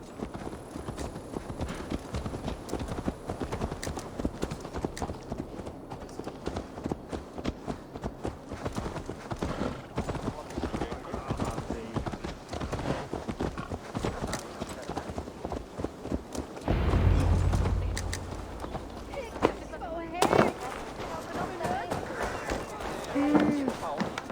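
Horse hooves clip-clopping in the video game Assassin's Creed Valhalla, a steady rhythmic trot heard close up, briefly interrupted by a louder thud near the end.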